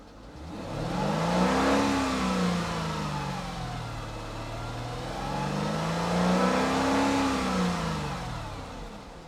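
A Mercedes-AMG car engine revs up twice, pitch rising and falling in two long sweeps, loud and close with no talking.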